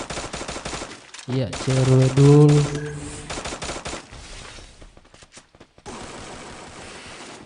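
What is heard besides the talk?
gunfire in the video game Free Fire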